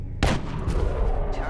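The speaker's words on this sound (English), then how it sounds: "It's a Gauss long rifle." A Gauss long rifle fires once in the XCOM: Long War strategy game, a loud sharp crack followed by a short rumbling tail that fills the rest of the moment.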